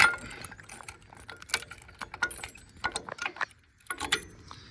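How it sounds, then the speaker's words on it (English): A hockey puck style lock clinks and jangles as it is slid onto and turned on a dump trailer latch, a string of sharp, close metallic taps and rattles with short pauses between them. "put the hockey puck style lock on there. This slides up, turn it."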